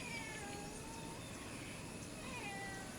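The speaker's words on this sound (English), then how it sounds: "And get yelled at by my cat." A cat meows faintly, a few drawn-out cries over a quiet hiss in a garage with a Pontiac GTO, with no talking.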